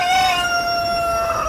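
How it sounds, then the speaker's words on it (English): Chickens crowing in a backyard garden, a loud, drawn-out rooster call held steady across the short moment, with no speech. "I hope you can hear me over the chickens crowing."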